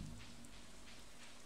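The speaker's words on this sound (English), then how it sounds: "And it's raining." Steady, soft patter of rain in the video game Stardew Valley, a continuous even hiss with no talk over it.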